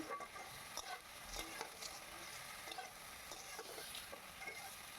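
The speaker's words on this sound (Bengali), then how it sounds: "ভালো করে নেড়ে চেড়ে দিচ্ছি।" Quiet sizzling of potatoes and eggplant frying in a pan with onion, turmeric and salt, with soft scraping and stirring sounds scattered throughout.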